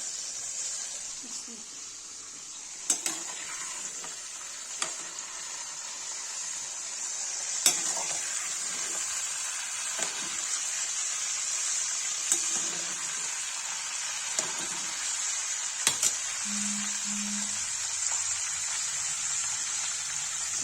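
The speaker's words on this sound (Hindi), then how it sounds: "लौकी फ्राई होगी" Bottle gourd (lauki) pieces frying in hot oil for a Kashmiri yakhni give a steady, hissing sizzle, with occasional clicks and a few soft knocks on top.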